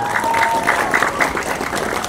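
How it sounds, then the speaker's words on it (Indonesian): A crowd claps for a village head at a gathering, a loud burst of applause with rhythmic clapping mixed with a few voices. "Tepuk tangan untuk Pak Kades, Pak."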